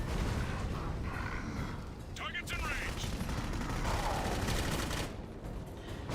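Continuous rapid gunfire in Clive Barker's Jericho video game rattles on as a dense, steady fusillade with mechanical clanks, and a voice talks over the shooting.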